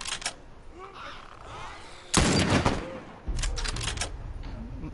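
Gunfire in The Last of Us on Grounded difficulty: a loud, close blast stands out over a rumbling, noisy game soundscape, followed by further crackling shots, with no talk.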